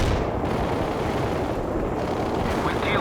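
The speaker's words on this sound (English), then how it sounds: "Commencing the barrage." A World in Conflict artillery barrage thunders in a dense, continuous roll of heavy booms and blasts that fill the scene from start to finish, loud and close.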